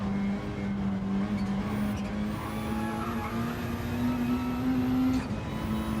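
Peugeot race car lapping the Spa circuit in Gran Turismo 7, a sustained engine note that climbs slowly in pitch under acceleration, with brief tire noise and no talking over it.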